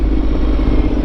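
A Ducati Multistrada 1200 Enduro motorcycle under way, its engine holding a steady, loud, close low drone with a constant rumble and slight clatter throughout the short stretch, no voices over it.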